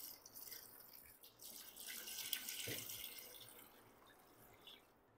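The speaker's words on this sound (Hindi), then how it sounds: "गलाने के लिए इसमें पानी डाल दूंगा।" Water poured from a jug into a pot of mutton and spices, a steady broadband splashing pour lasting several seconds at moderate level, with no talking.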